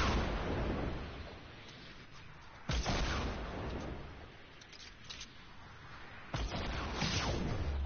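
Rockets exploding in the Fortnite battle game: booming blasts over a continuous rumbling din, with sharp impacts near three and six seconds and no speech.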